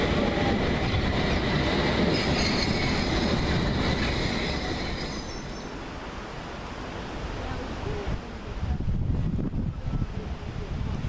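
A train hauled by a diesel locomotive rumbles past nearby with steady rolling noise and faint wheel squeal, buffeted by wind on the microphone.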